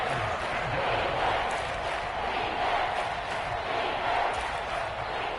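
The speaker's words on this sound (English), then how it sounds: "the Seahawk crowd really makes it tough for an offense to communicate" A stadium crowd in a football video game roars steadily at a Seahawks home game during a red zone third down, a loud, dense wash of noise holding level throughout.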